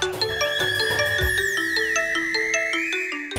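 A phone ringtone plays loudly and continuously, a bright electronic melody with chiming tones and sliding notes, with no one speaking over it.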